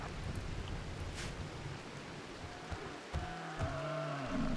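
Steady rain falling in the RimWorld video game, a continuous hiss carrying through the whole clip with faint low tones and a few brief game sounds toward the end.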